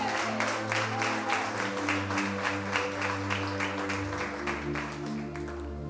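Congregation clapping for Jesus at a women's church service, sustained rhythmic applause over music with steady sustained tones underneath.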